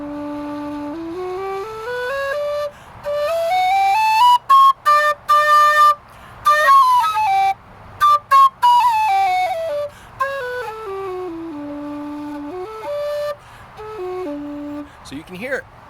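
A low D whistle fitted with a Carbony air dam plays a slow melody of clear, sustained breathy tones that climb and fall across steady notes, up close with a few brief breaks between phrases.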